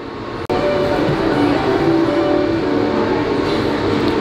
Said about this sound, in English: Pretty cool, look at that monorail.